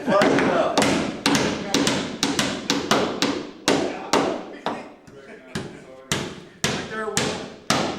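Repeated hammer blows strike a wooden skiff under construction, sharp thuds in an uneven rhythm, close and loud, with voices talking between some strikes.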